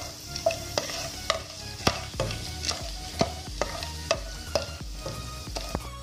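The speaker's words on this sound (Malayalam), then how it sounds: "കറുകപ്പട്ട, ഗ്രാമ്പു, ഏലക്ക, തക്കോലം ഇത് നമുക്ക് ചേർത്ത് കൊടുക്കാം. ചെറുതായി ഒന്ന് ഇളക്കി കൊടുക്കണം." Whole spices such as cinnamon, cloves, cardamom and star anise frying in ghee while being stirred, with a steady sizzle under sharp, regularly spaced utensil scrapes and knocks against the pan, close and fairly loud.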